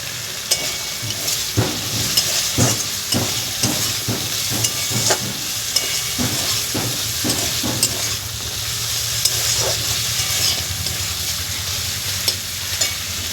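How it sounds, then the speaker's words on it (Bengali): Crab curry (kakrar jhal) sizzles in a pan close by, a constant frying hiss punctuated by a rhythmic series of knocks and scrapes from a spoon stirring against the metal, with no voices. "প্রায় ভাজা হয়ে গেছে, একটু গরম মশলা দেবো, দিয়ে নামিয়ে নেব।"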